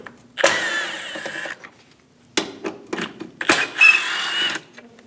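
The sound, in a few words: removing two screws with a T25 Torx driver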